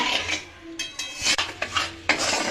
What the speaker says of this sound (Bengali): এইভাবে নাড়িয়ে নাড়িয়ে আমি একটু ক্যারামেল তৈরি করে নেব।